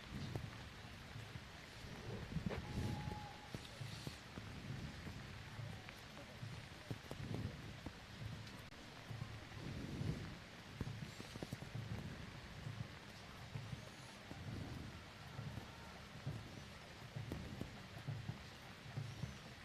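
Steady rain falls and patters on surfaces throughout a dragon boat race at the Taipei City Whale God Cup championship, a dense continuous hiss with low rumbles and occasional voices in the background.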